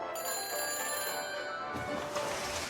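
A telephone rings in the Back to the Future video game, with a brief, fairly quiet electronic ring of steady tones over a couple of seconds.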